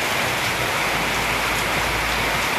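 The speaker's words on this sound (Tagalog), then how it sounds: "Maulan na panahon." Steady rain falls in the Philippines on a morning near Boracay, a dense, even hiss of drops that stays constant and fairly loud throughout, with no voices.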